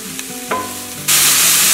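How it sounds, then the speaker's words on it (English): Sliced white button mushrooms from a carton land in a hot pan, with a few stirring clinks before a loud, steady sizzle of frying takes over and holds to the end. "you want to add your carton of mushrooms. White button sliced mushrooms, and you want to cook this for about 3 minutes."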